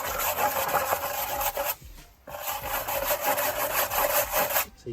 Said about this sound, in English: go at it with just a steel brush, just to get most of that blackness off